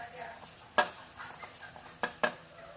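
A spoon stirring a spice paste of salt, chili, turmeric, garam masala and ginger-garlic in a bowl, giving a few sharp scraping clinks spaced irregularly over soft background hiss, fairly quiet and with no talk.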